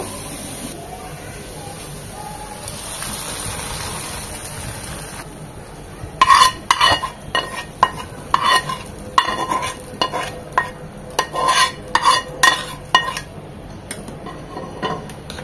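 Chopped ginger fries in a pan, a soft sizzle at first, then sharp rhythmic clicks and scrapes of a spoon stirring against the pan, near and fairly loud.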